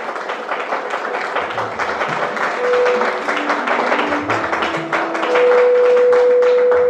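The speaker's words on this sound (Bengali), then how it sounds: "তার জন্য জোর করে একটা হাততালি চাইবো।" Audience at a Saptami celebration applauding a first-place prize winner, sustained dense clapping that grows louder toward the end, with a steady tone sounding alongside.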